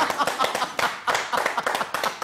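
Hand clapping: a quick, irregular run of sharp, close claps that continues steadily without any voices.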